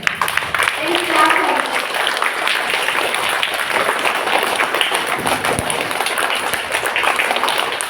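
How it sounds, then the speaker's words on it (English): A room of school students bursts into sustained clapping and applause, a dense, steady patter of many hands lasting several seconds, celebrating a classmate's first-place win at a Silambam championship. "So give him a big applause."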